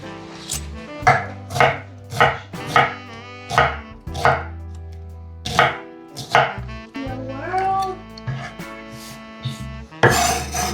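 Knife chopping an onion on a cutting board, a series of sharp, distinct thuds in an uneven rhythm, loud and close, with brief pauses and no talking.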